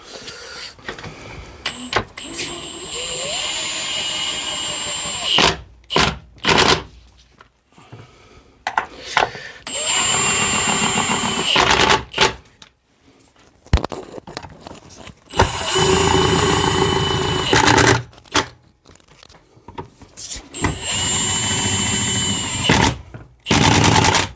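An air impact gun turned down to minimum drives home the bolts on a Peugeot 207 MA gearbox, giving loud, close rattling bursts of several seconds each, separated by short quiet gaps, in about four rounds.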